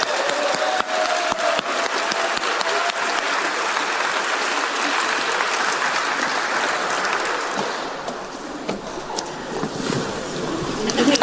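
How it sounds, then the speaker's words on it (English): Applause from the audience at a PowerPoint karaoke session at the EMF 2024 festival: dense, continuous clapping, loud and sustained for the whole stretch, with a faint voice briefly under it near the start. "Hey, round of applause"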